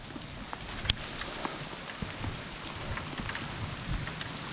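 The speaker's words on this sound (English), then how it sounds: "Well, the thunderstorm's here, and with it is hail." Hail and heavy rain from a thunderstorm pelt down outdoors in rapid, dense patter, with sharper individual impacts ticking out above the steady roar.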